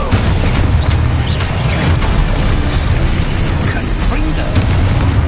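Hogwarts Legacy's Expulso blasting spell goes off in a loud, sustained rumbling explosion with low booming energy and scattered debris crackle, filling the whole stretch without a break.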